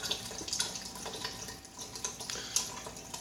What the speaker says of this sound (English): Just going to pour that in there.